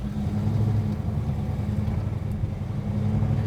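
Steady low engine rumble from a 1967 Chevrolet Chevelle on the move, a close, even drone with no talk over it.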